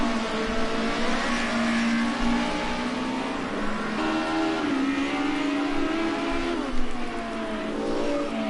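An Audi four-wheel-drive Group A race car accelerates up the hill at Imola, its engine note rising and shifting through gears in a loud, sustained howl, with other cars audible around it.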